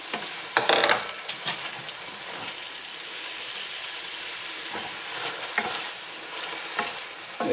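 Mushrooms go into a frying pan with carrots, a moderate, steady sizzle close by, broken by scattered utensil knocks and scraping clatters.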